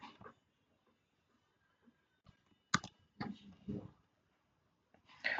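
Computer mouse clicks while copying and pasting a link, a few sharp, close clicks spaced irregularly over near-silence, with faint breath or mouth noises between.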